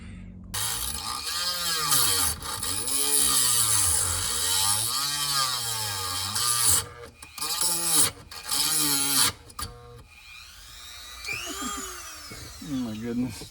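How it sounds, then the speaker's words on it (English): A small Dremel rotary tool cuts into a car's plastic shifter console, a Honda CR-V shifter going into an AWD Acura Integra. Its loud, high-pitched whine rises and falls as the bit bogs and speeds up, stopping and restarting in short bursts. "So I got this little Dremel right here and we're gonna get started."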